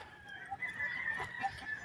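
Several chickens cluck and chatter nearby, with a rooster's drawn-out crow rising through the middle, moderately loud over faint outdoor ambience.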